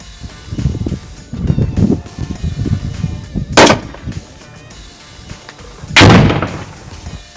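A training session with grenade launchers, where two heavy, sharp blasts ring out seconds apart against a low background of rustling and handling noise.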